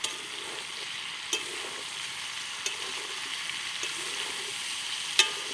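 Continuous soft sizzle of pointed gourd frying in a little oil, punctuated by a few sharp clinks of a utensil against the pan.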